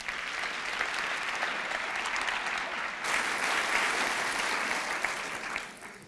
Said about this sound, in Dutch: Graag een applaus voor professor Dr.